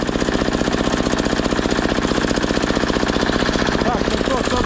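A diesel walk-behind tractor engine runs up close while a garden is being ploughed on a hot day, pounding out a fast, heavy, steady knocking chug that stays loud throughout, with a voice briefly audible near the end.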